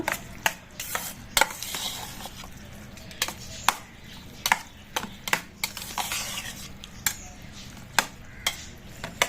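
A spoon stirs milk and curd in a bowl, with repeated clinks against the sides in an uneven rhythm, close and fairly quiet.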